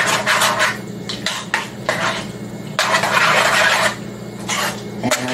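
A spoon scrapes and clanks around a pot of beef stew seasoned with black pepper, in loud repeated bursts of stirring and scraping with short pauses between.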